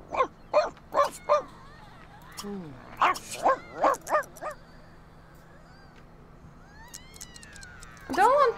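A dog in the video game The Sims 2 barks in quick bursts of three and four sharp, clear yaps separated by quiet gaps, with a short whimper-like cry near the end.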